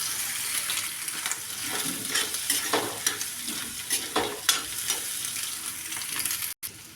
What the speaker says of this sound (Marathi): परतून घेऊ।